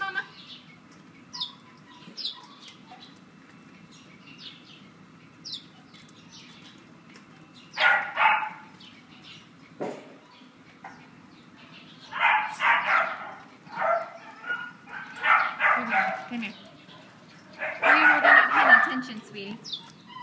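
Dogs at a San Bernardino city animal shelter bark in short and longer bursts, some yipping and whimpering, moderately close over about twenty seconds, with quiet gaps between volleys and people talking nearby.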